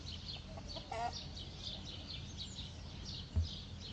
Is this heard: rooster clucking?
yes